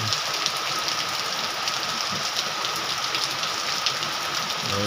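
Heavy rain brought by a typhoon, a dense, steady hiss of downpour drumming on surfaces close by, constant and loud throughout with no voices.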